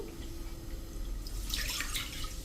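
Water poured into a thick-bottomed pan, two cups measured against one cup of wheat flour for a Gujarati khichu, giving a soft, steady splashing stream that grows brighter toward the end.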